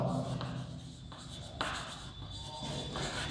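Steady scratching of chalk or marker writing on a board during a chemistry lecture on chemical bonding, continuous strokes with brief taps and pauses, fairly close and alone without talk.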